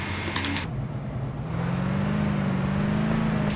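A car engine hums steadily in Lego Marvel Avengers, its low drone rising slightly in pitch as the vehicle drives along, loud and continuous with no talking.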